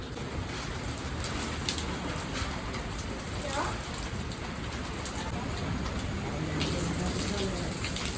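Steady rain pours down in Lahore after a storm, a dense, even hiss of drops on surfaces that continues unbroken throughout.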